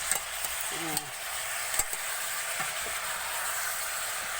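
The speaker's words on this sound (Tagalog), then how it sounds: "Bawang sibuyas lang yan guys, ang gisa." Garlic and onion sautéing in a smoky pan, giving a steady, fairly quiet sizzle-like hiss throughout, with a few faint clicks and brief low sounds on top.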